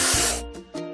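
Spray paint hissing in a kids' construction video game as discolorations are painted over: a long, loud spray burst followed by two shorter separate bursts, with no talk.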